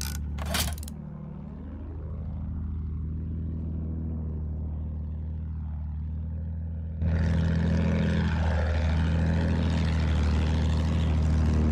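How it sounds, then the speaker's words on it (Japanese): A steady propeller-plane engine drones loudly and continuously, with its pitch sweeping as it passes, and a sharp metallic clink at the start. "奴らの飛行機だ"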